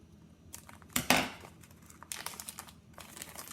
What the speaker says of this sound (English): I'm just going to pull the plastic off of the roll.